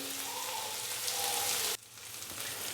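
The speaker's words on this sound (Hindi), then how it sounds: "माशाल्लाह से चिकन रेशमी कबाब बहुत ही अच्छे से फ्राई हो चुके हैं।" Chicken reshmi kebabs frying in a pan give off a steady, dense sizzle that sounds like rain on a surface. The sizzle cuts off abruptly partway through and then resumes at a lower level, with no talking.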